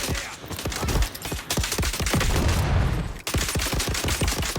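Gunfire in the third-person shooter game Dune Awakening: dense, loud rapid bursts of automatic shots in a fast steady rhythm, with a brief lull before firing resumes.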